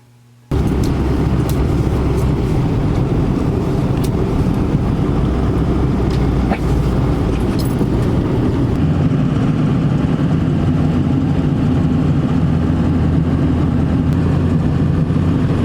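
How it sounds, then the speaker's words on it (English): Pickup truck engine idling as it warms up in cold weather, a steady low rumble that starts abruptly and runs on evenly up close, with a slight settling in tone partway through. "I have my truck warming up out there right now."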